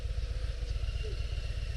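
A 2022 Harley-Davidson Low Rider ST motorcycle runs with a loud, lumpy low-pitched engine pulse, its fast rhythmic thumping close and steady throughout the short stretch.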